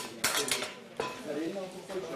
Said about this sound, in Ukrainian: Дивіться, я спробую її просто взяти ложкою.